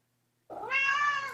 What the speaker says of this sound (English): He's such a long cat.